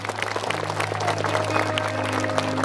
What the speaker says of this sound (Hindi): ताली बजा के थैंक्स करें परमेश्वर